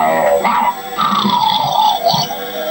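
A voice imitates a dog, giving a drawn-out howling bark with yelping rises, loud and close, with no other sound.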